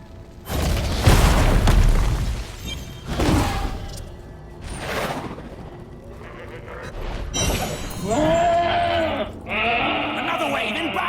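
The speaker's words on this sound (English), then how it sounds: "Make these goats bleat their last." Goat-like Khazra creatures in a video game bleat in several separate bursts, loud and close, mixed with booming impacts and a talking voice.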